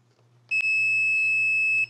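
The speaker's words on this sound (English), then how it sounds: "now we're hearing a beep." A single steady electronic multimeter continuity beep, high and clear, sounds for just over a second after a brief switch click, alone in a quiet room.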